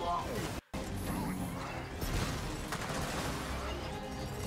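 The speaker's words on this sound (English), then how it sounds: "Oh, you got sniped down, okay." A sniper rifle fires in the Xbox shooter Gears of War 4: sharp, cracking shots and crashing impacts stand out against a busy, constant wash of battle noise.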